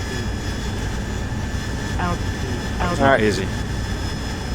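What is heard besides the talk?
Harrier jet engine throttling up, from a video game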